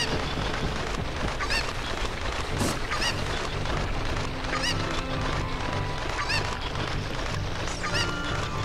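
A cucco squawks repeatedly in Zelda: Ocarina of Time, giving honking calls at intervals over steady in-game music, with no talking.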